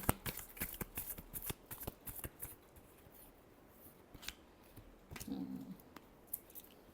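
Tarot cards being shuffled in a final shuffle for a Pisces love reading, giving a run of crisp, rapid riffling flicks and soft slaps close to the mic. There is no talking.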